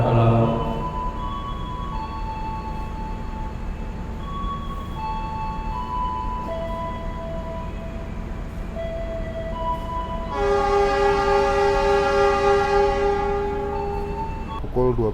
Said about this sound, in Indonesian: Sekarang kita telah diberangkatkan dari stasiun Purwokerto.